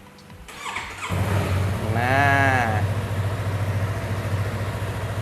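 A used double-seater motorcycle with its stock, unmodified exhaust fires up nearby, gives one rising-and-falling rev, then settles into a steady, loud idle. A voice says a brief word at the start.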